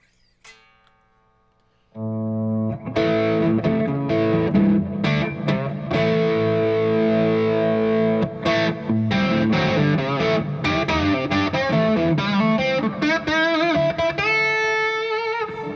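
Electric guitar driven through an overdrive pedal into an amp with its power section pushed hard, playing loud, thick, compressed distorted chords and riffs with sustained notes, starting after a brief quiet pick noise and continuing without talk.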